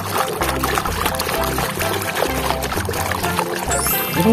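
Water pouring and splashing while a horned toy Ultraman mask is washed, a loud steady gush close by with some sloshing throughout.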